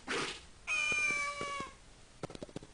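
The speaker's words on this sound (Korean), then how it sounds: "고양이다." A cat meows once in a long, clear, slightly drawn-out cry inside the Kamaitachi no Yoru mystery game, preceded by a brief rustle and followed by soft tapping sounds.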